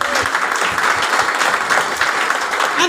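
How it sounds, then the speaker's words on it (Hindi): A crowd at a program in Bahrain applauding a restaurant's executive chef, a strong, sustained wash of many hands clapping close by with a few faint voices mixed in. "उनके लिए जोरदार तालियां हो जाएं."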